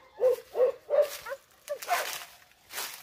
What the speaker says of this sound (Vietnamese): Các bác nghe sủa này.